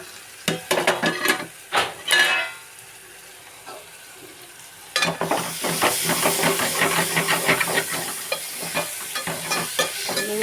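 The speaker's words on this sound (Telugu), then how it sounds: "ఉల్లిపాయ ముక్కలు వేగినాయా?" Onion pieces sizzle in oil in a curry pan: a few sharp stirring clatters and bursts of frying first, then a steady, close hiss of sizzling with scraping spoon strokes running through it.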